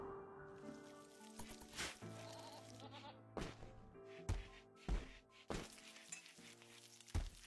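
Goats bleating repeatedly in a video game battle, a series of loud, close bleats layered over dense in-game clatter and sizzling effects, without speech.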